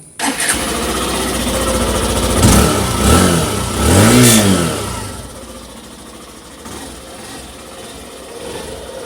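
A Hero Super Splendor BS6 motorcycle from 2023 starts up and its engine and silencer rev loudly a few times, then settle back into a steady, quieter idle close by.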